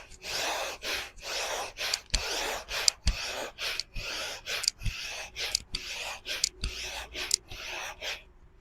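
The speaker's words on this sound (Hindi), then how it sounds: "फोर्सफुली सांस को बाहर छोड़ना है।" Forceful breathing exhalations during a pranayama exercise, about fifteen sharp, loud breath pushes in a steady rapid rhythm, close and alone.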